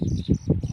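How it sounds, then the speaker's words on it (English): A flock of birds calls in alarm as a fish eagle swoops down, a cluster of close, rough, overlapping calls in quick bursts. "you can see all the birds are complaining"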